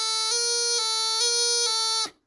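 Practice chanter from a bagpipe held on a steady reedy note while the top-hand thumb lifts off and back on several times, slowly, so the pitch shifts up and down in brief steps before the note stops.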